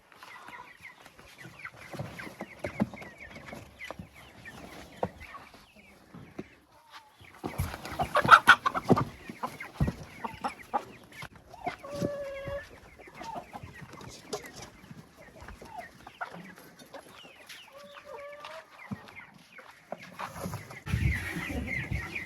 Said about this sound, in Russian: Осталось принести только бройлеров.